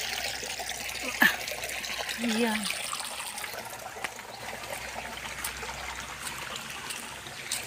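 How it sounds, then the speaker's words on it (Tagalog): River water trickles and gurgles softly as people wade across it on foot in a rural area. The flow is quiet and continuous, with a person briefly talking over it. "So, tawid tayo sa may ilog."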